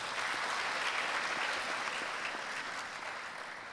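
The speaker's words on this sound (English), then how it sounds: "Can we please clap for this group?" A graduation ceremony audience applauds steadily and loudly, a dense, even wash of many hands clapping with no break across the whole stretch.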